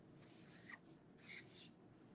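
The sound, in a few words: Sharpie Creative Marker writing on regular paper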